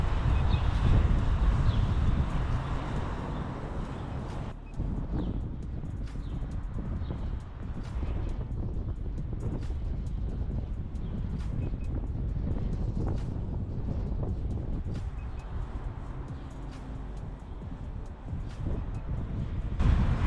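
Steady wind buffets a drone's microphone with a broad, rough low roar, continuous and close throughout, with occasional gusty bumps.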